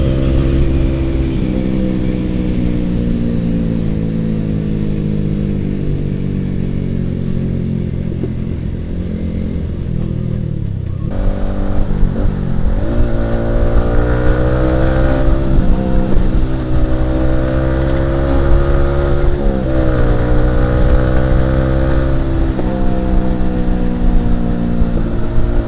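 Yamaha R15 V3 motorcycle fitted with a Ronin Hanzo NextGen exhaust, a loud close idle that breaks into repeated throttle blips and revs rising and falling over a steady rumble.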